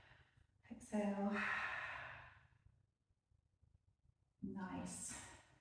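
Two long, breathy exhalations during a stretching and foam-rolling session, each a loud, voiced sigh with a quiet pause between them.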